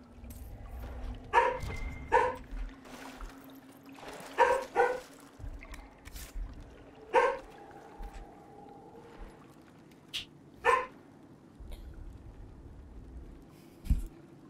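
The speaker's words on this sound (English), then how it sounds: "my dog" A dog indoors lets out a series of short, sharp barks and yips at irregular intervals, fairly close, against quiet room tone while a video game is being played.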